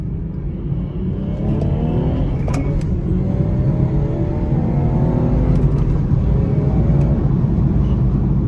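Remapped car on a full-power tune in sport mode, pulling hard downhill, its engine note climbing steadily and droning loud and close from the cabin through one long sustained acceleration.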